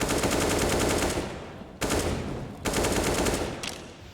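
Loud automatic gunfire during a Counter-Strike: Global Offensive match, three sustained bursts, each cut off sharply and followed by a decaying tail, close and dominant.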